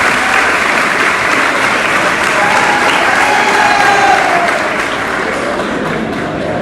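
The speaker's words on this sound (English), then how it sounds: "something which need a big round of applause" Loud, sustained audience applause at a film theme launch event, dense continuous clapping filling the hall from start to finish with a light crowd murmur beneath.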